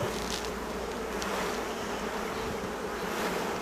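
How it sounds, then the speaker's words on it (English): Dense, steady buzzing of many honeybees swept into a new hive split, a continuous close swarm drone with no voices. "Look at that, lots of bees for our new little split."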